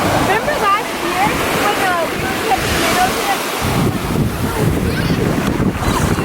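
Surf washes and churns at Nauset Beach, loud and close, with wind buffeting the microphone and voices of a family faintly mixed in.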